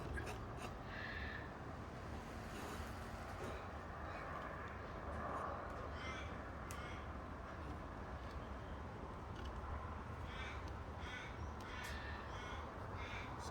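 Two crows caw repeatedly from up in a tree outside an open door, the calls coming through in irregular bursts over a steady wash of outdoor background noise, with no talking.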